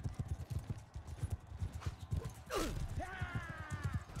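Horse hooves gallop in Mount & Blade II: Bannerlord, a steady, close clip-clop that carries through the whole stretch, broken midway by a brief whinny-like call and a swell of louder noise.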